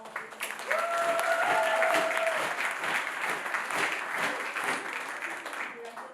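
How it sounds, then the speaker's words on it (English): An audience at a poetry mehfil bursts into sustained applause, a dense wash of clapping that swells quickly and then tapers off, with a brief tonal whistle early on. "can we give a round of applause to all of them?"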